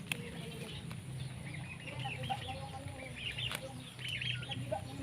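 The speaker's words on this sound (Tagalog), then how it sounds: "ayan yung mga pabo." Turkeys in a backyard garden give soft, scattered clucks and gobbling calls at a moderate distance over faint outdoor background noise.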